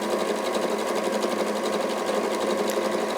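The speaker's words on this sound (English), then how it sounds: "I'm sewing through 4 layers of fabric and the Valaiseline at this point, and this machine is just gliding through it" Sewing machine stitching steadily through four layers of fabric and interfacing on a bag handle, an even, continuous rapid whir at moderate level with no pauses.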